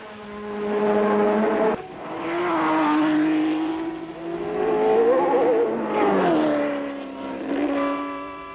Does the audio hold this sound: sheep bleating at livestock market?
no